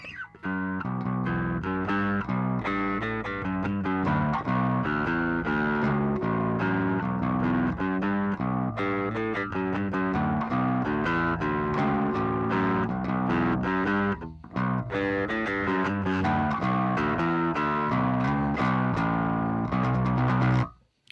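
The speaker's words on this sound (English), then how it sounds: "Maybe if we try the overdrive pedal, we can get something decent." Bass guitar played through an overdrive pedal on a music stream, a continuous run of gritty, sustained notes and riffs with a brief gap midway, loud and close with no talking.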